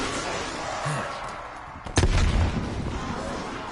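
A frag grenade detonates in Call of Duty Cold War Zombies, one sharp loud blast near the two-second mark followed by a rumbling tail over steady game background noise.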